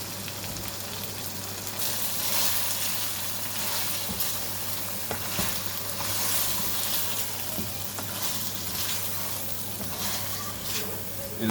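Cream being stirred into fried lemon pepper chicken in a kadai over low heat, giving a steady close sizzle with soft stirring scrapes throughout.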